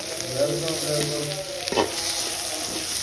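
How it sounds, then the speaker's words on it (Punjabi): Oil sizzles steadily in a pan as a tempering is made for a cauliflower curry, with the fried cauliflower set aside. The crackle is close and continuous, with a brief stirring scrape partway through. "ਗੋਭੀ ਆਪਾਂ ਕੱਢਦੀ ਸਾਈਡ ਤੇ ਫਰਾਈ ਕਰਕੇ ਤੇ ਤੜਕਾ ਲਾਉਣ ਲੱਗਿਆ"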